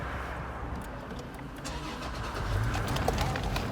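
A car engine is started with a push button, cranking and catching into a steady idle hum, close and continuous, with a faint bird in the background.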